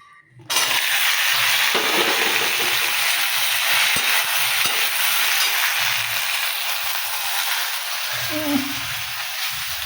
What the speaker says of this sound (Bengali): আর এখন এই যে ফোড়ন দিয়েছি, ঢেঁড়সটাকে দেবো।